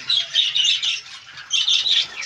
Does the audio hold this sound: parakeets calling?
yes